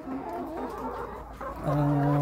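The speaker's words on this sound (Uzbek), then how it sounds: "bular tuxumdagi ikki yillik tovuqlar ekan" Two-year-old laying hens cluck steadily at close range, a dense overlapping chorus of short calls that swells louder and more sustained toward the end.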